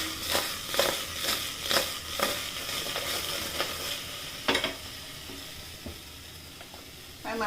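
Food being tossed in a pan while preparing traditional mudda pappu with brinjal and green mango pulusu: a series of soft, rhythmic scraping and sizzling bursts close by, with no talking.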